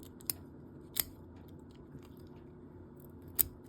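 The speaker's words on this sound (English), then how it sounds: "You just want to cut these gills right out of this fish." Shears snipping the gills out of a bluegill being prepared for taxidermy, three sharp isolated cuts over a quiet background, close and crisp.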